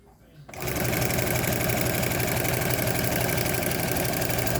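A sewing machine stitches fabric for baby bummies, its motor starting after a brief quiet moment and then running in a steady, loud, continuous whir with a fast mechanical chatter.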